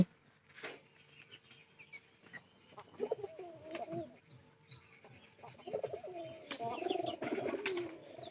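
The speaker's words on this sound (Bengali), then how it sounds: "আমাদের বাহির থেকে দুই চারটা কবুতর আসে এই দুটা দেখতেছেন এটা কিন্তু বাহিরের কবুতর" Pigeons, including a couple of visiting outside birds, coo in soft, low, throaty phrases that swell and fade, with faint chirps and rustling near a feeding area.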